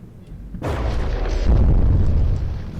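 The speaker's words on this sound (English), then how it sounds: "That's a big blast." A loud blast bursts suddenly against a ship in the naval combat game From the Depths, a heavy deep boom with a second swell of rumble before it slowly trails off.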